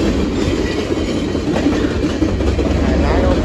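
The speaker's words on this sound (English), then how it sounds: "here comes CalTrain 513, the limited train now passing by." CalTrain 513 limited passenger train passing close by at College Park, San Jose, a steady loud rumble with rapid clickety-clack of wheels on rails and no gaps.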